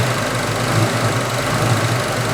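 A 1965 Ford Mustang engine idles with a steady, rough rumble, its low chugging drone rising and dipping slightly as the idle hunts.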